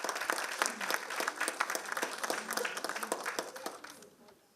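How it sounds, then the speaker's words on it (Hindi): Audience applause after a dance academy's live performance at a Republic Day music event: dense, crackling clapping from a crowd that holds steady and then fades away at the end. "ये जो आपकी तालियां अभी आई"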